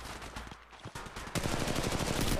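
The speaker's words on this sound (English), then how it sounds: "I'm taking shots." Gunfire hits the player in the Apex Legends Mobile battle royale: loud, dense bursts of rapid automatic shots, close and continuous, strongest in the second half, with no voices.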